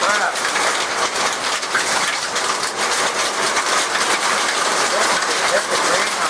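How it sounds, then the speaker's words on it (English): Hail pelting a greenhouse in a dense, continuous patter of hard impacts, loud and close throughout with no let-up. "We got hail."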